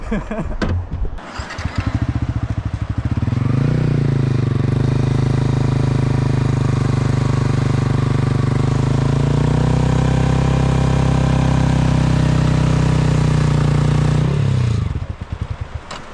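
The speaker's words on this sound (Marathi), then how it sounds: "आता बाईक आपण पूर्ण समुद्रात घेऊन जाऊ." A motorcycle sits on quiet Mahim Beach, its engine catching and then holding a loud, steady idle close by for about twelve seconds before it eases off at the end.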